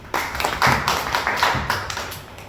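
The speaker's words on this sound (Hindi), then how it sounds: "ताली बजाते रहे।" A workshop audience claps hands in rapid, uneven bursts, many hands together close by, steady for a couple of seconds.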